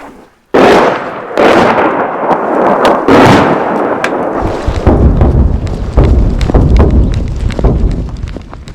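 Artillery shelling on the Eastern Front in Ukraine: a series of loud, booming blasts and sharp bursts, some close and some farther off, over a continuous rumbling background with no voices.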